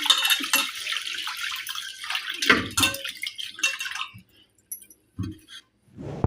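Water sloshes and splashes in a vessel as lentils (dal) are rinsed, with bursts of pouring and swirling that fade to quiet drips and a few closer splashes near the end.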